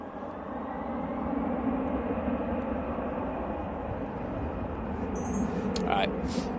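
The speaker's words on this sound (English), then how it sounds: "on the other runway we do have the Lufty A320 going out" A Lufthansa A320 airliner departing Manchester Airport produces a continuous, distant jet rumble that swells slightly toward the end. Faint chirps and other background noises sit on top of it.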